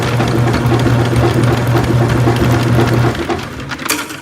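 An Albott auto-feed electric drain snake machine (75 ft, 3/8 inch cable) whirs steadily as it winds its cable back in, a close, loud motor hum with rapid rhythmic clatter that cuts off near the end.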